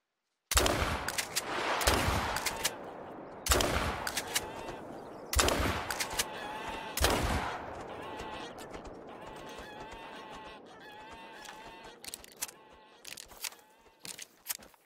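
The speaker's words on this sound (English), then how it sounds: "Let's take a shot here, I guess." Rifle shots in a hunting video game, several loud sharp reports spaced a second or two apart, followed by quieter scattered clatter and mechanical sounds, with someone talking in between.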